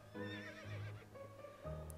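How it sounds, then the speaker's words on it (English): A horse in the video game To The Moon gives a loud, close whinny lasting about two seconds, rising and then trailing off in a wavering neigh, with no talking over it. "There's a horse."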